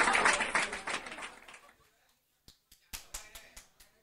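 Applause for a singer at a Vietnamese golden-era music show after a song: a dense wash of clapping that fades out, followed by a few scattered, separate claps.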